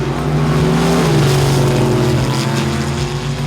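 A Hemi-powered Dodge Coronet drag car back at the strip after nearly a decade, its engine holding a loud, steady low rumble with a slight pitch shift partway through.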